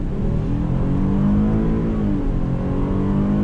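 A Buick Enclave SUV pulls away from a dead stop under throttle, its engine hum building steadily as it gathers speed, muffled and continuous from inside the cabin.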